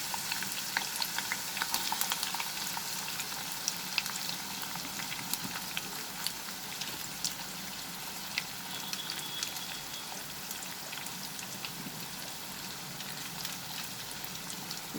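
Sliced onions fry in hot mustard oil with a steady, dense sizzle and crackle throughout, close and fairly quiet, with no talking.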